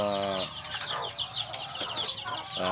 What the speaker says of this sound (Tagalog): Ito pala yung aking mga chicken na